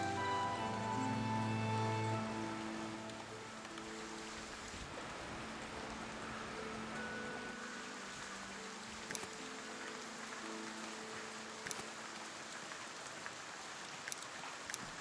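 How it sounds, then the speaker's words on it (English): Steady rain in the video game Foundation, a constant wash of drops on surfaces, with a low tonal game music bed fading out early and a few faint clicks later on. "if this weather would stop, we've had enough rain for"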